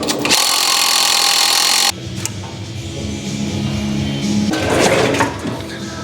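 An impact gun fitted with a 19mm socket tightens bolts while a VW Caddy is being lowered, giving a loud, harsh mechanical burst for about two seconds, then dropping to quieter workshop clatter and rattling.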